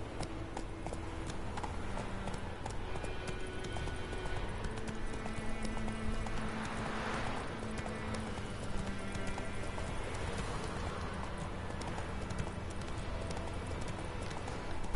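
Horse hooves clip-clop steadily in The Witcher video game, a continuous rhythmic trot lasting throughout with a brief whinny-like swell midway, over game ambience and no talk.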